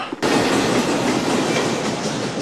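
A train rolls steadily along the rails, a loud continuous rumble with rhythmic clickety-clack from the wheels starting abruptly after a brief quiet moment and holding throughout.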